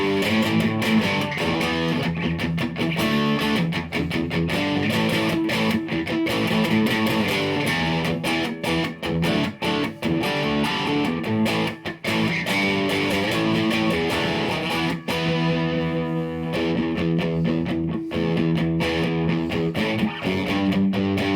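A Squier Classic Vibe Jaguar electric guitar played through a distortion channel on the bridge pickup, with loud, sustained, crunchy chords and riffs continuing without a break, alone without talk.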